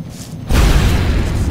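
A weapon shot in the turn-based strategy game XCOM Long War: a single loud, deep boom hits midway and leaves a dense, sustained rumble that fills the rest of the moment, with no voices.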